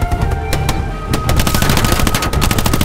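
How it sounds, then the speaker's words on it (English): Rapid bursts of automatic gunfire crackle in a realistic shooter video game, loud close volleys of sharp shots coming in quick rhythmic runs with no talking. "We're getting shot at, bro."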